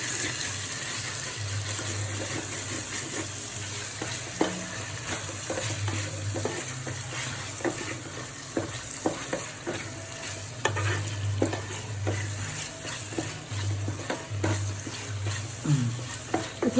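Vegetables stir-frying in ghee for veg fried rice give a steady close sizzle, broken by repeated clanks and scrapes of a spatula against the pan and a few low hums in the background.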